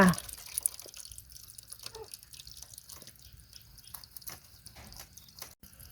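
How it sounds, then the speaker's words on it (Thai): Salted eel being rinsed in clean water by hand, soft close splashes, drips and wet squelching at low volume, fairly quiet throughout. "รูดเกลือแล้วก็มาล้างน้ำสะอาดออกอีกจ้า"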